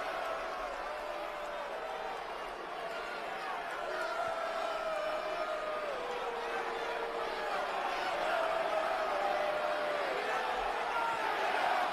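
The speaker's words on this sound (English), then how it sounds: "you hear the crowd chanting for Punk" A wrestling arena crowd on RAW chanting for CM Punk, a sustained rolling chant from a large audience heard at a distance, with rising and falling sung tones over a constant crowd roar.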